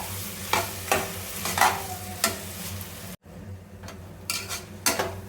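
Onions, tomatoes and green chillies frying in a pan, a steady sizzle broken by repeated scraping stir strokes and one brief gap, for a meal maker kushka.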